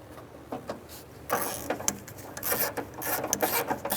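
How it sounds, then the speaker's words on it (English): A ratchet snugs down a bolt on the exterior door handle of a 2006-2012 Honda Civic, giving a run of quick, close mechanical clicks in short bursts with faint handling noise between them. "I'm going to go ahead and snug this one down."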